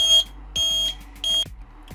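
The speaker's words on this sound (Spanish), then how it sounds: "si no hay alimento pues comenzará a pitar" An automatic feed level control on a feed hopper sounds its empty-hopper alarm as three loud, high electronic beeps, each lasting about a quarter second, evenly spaced with short gaps, close by, followed by faint clicks.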